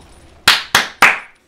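Three sharp hand claps, close and loud, in an uneven quick rhythm with a short pause before the first, alone with no talking.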